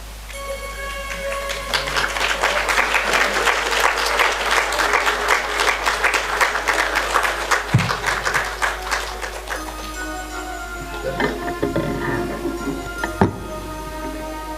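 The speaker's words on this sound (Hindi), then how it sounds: "ऐसी तालियां बजेंगी" A seated audience at a spiritual satsang claps together in a sustained round of applause that swells and then thins into scattered claps and a few taps, with faint voices underneath toward the end.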